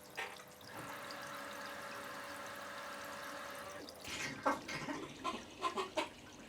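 Water from an African river aquarium tank drawn out in a steady trickling stream for several seconds, followed by a few distinct splashes and drips close by.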